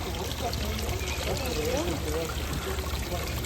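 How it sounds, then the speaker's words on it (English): Water trickling down a koi pond waterfall with a weak pump, a steady close splashing and pouring wash, with faint speech-like tones over it. "this is just not moving that much water. Kind of trickling down."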